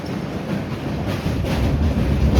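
A train slows on a bridge in a steady low rumble of wheels and carriages, heard from inside the coach, continuous and fairly loud with no talk.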